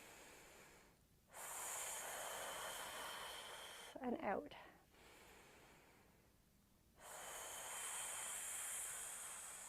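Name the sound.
snake breath, hissing exhale imitating a snake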